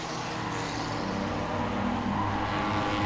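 A stock race car passes by on an oval track while its engine drones steadily and other cars run nearby, a moderately distant continuous roar with no talking.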